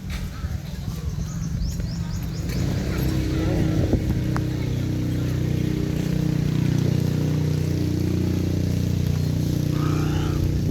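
A boat engine drones steadily on open water, a continuous low rumble that builds and holds as the craft passes nearby, with faint bird calls in the background.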